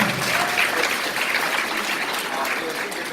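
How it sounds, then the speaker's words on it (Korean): Applause from an audience at a motivational mindset lecture, steady dense clapping of many hands held at an even moderate level for a few seconds, with no talk over it. "큰 박수 부탁드립니다"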